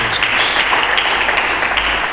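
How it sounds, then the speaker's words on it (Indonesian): A church congregation applauds together in steady, dense clapping that fills the room, loud and sustained without a break. "Mari kita berikan tepuk tangan bagi Yesus Kristus"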